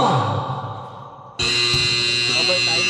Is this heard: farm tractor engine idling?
no